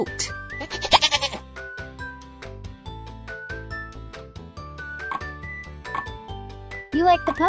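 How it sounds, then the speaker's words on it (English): A goat bleats in a children's farm-animal cartoon, the cry rising briefly near the start over a bright, continuous backing of music and game sounds. "goat"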